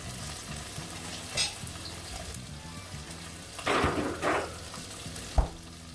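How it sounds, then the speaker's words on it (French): Chicken escalopes land in hot melted butter with a few soft bursts of sizzling, over a steady low background hiss of frying. "Ce bruit, c'est la coagulation des protéines, ça s'appelle la réaction de Maillard."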